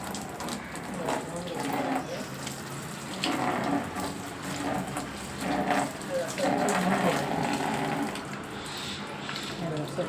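Aloe vera leaves being rinsed under a running kitchen tap give a steady splashing water sound throughout, with someone speaking over it.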